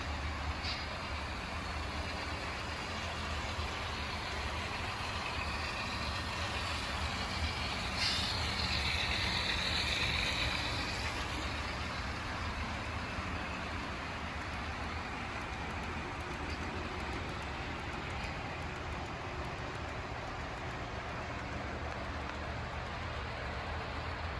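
An HO scale model coal train rumbles steadily along the track, a continuous rolling clatter with a few brief squeaks, unbroken for the whole stretch.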